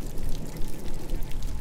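Rainwater pours and drips off a camper in a downpour, a steady, close splashing with no talk over it.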